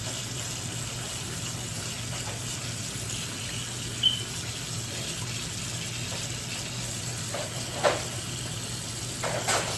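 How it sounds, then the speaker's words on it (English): Tap water runs steadily over a dyed Draco rifle being rinsed, a faint continuous splashing stream with a few soft knocks. "rinse it off until the water coming off of it is pretty clear"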